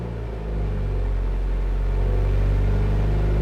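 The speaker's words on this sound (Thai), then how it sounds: "แล้วคันที่มาช่วยเนี่ยเราก็เร่งรอบเครื่องยนต์ไว้ซะหน่อย" A car engine held at about 1,000 to 1,500 rpm while jump-starting another car, a steady low droning rumble that swells slightly after the start and holds, heard up close with no talking.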